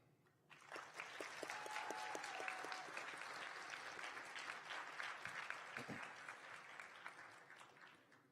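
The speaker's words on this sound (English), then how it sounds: "Will everyone please give me a round of applause to our new student organizations present tonight?" Sustained applause from a large audience at a student affairs leadership awards ceremony, welcoming new student organizations; steady, dense clapping that swells quickly, holds for several seconds and slowly tapers off, with no talking.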